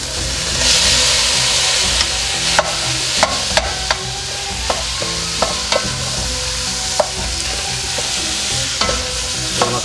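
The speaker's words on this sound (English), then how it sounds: "I'm going to caramelize the beef first." Beef sauteing in a pot for harira soup, a constant loud frying sizzle and hiss with regular sharp clinks and scrapes of a utensil stirring against the pot.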